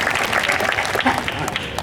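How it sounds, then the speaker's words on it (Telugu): An audience at an awareness programme in a government women's degree college breaks into brief, steady applause, fairly close, while a voice speaks over the clapping. "క్లాప్స్"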